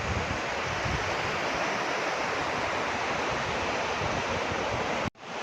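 A waterfall in the natural surroundings of Sundargarh District roars as a dense, steady rush of water, loud and continuous, before cutting off abruptly at the end.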